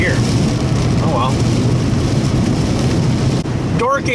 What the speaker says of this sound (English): Now it's raining crappy here.